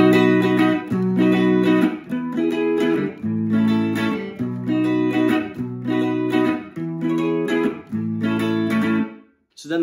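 Guitar strums a chord progression, a steady run of ringing chords about one per second, loud and close with no talking, ending in a brief pause.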